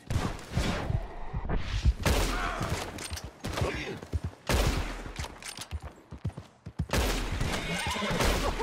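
A horse whinnies and snorts loudly in a video game, close and repeated over several seconds, mixed with bursts of gunfire-like cracks and rough scuffling noise.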